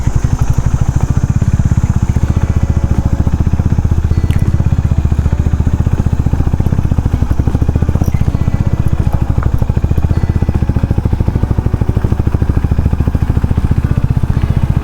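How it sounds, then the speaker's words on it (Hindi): A motorcycle labors uphill in first gear on a rough, badly broken mountain road, its engine thrumming steadily and loud throughout with a rapid, even pulse and some rattling clatter. "बाइक पहले गियर और दूसरे गियर से ऊपर जा ही नहीं रही है"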